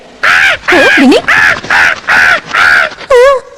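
A cartoon crow cawing in a run of loud, harsh, close calls, about seven in quick succession with short pauses, alone without other sound; the calls may be a voice actor imitating the crow.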